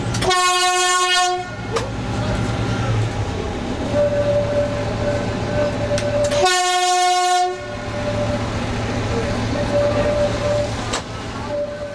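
A Selketalbahn narrow-gauge train of the Harz railway runs through a station toward Alexisbad, sounding two long horn blasts between a steady engine drone and rumble as it moves along the track.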